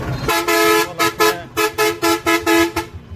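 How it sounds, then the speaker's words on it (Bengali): Car horns honk repeatedly in a heavy road traffic jam on the way to Jhenaidah, a string of loud, close blasts in uneven rhythm, some long and some short, with no talk over them. "এই যে গাড়ির হর্ন শুনেই বুঝতে পারছেন কি পরিমাণ গাড়ি জড়ো হয়ে গেছে রাস্তায়"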